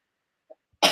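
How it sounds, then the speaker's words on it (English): A brief, quiet throat-clearing sound, followed after a short pause by a sudden loud burst of noise. "Let me clear my throat."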